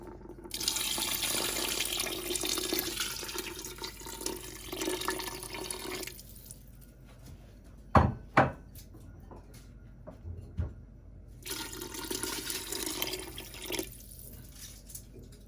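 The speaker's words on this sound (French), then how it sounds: "vous allez rajouter de l'eau jusqu'à peu près la moitié de votre cocotte" Water runs into a cooking pot for Moroccan harira soup in a steady rushing pour, then stops. A couple of sharp knocks of the pot follow before the flow resumes near the end.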